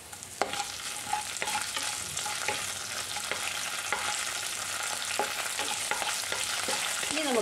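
Ginger, garlic, dried chillies and curry leaves fry in hot oil for gooseberry pickle, giving a continuous crackling sizzle broken by regular scraping knocks of a spoon stirring the pan, close and fairly loud.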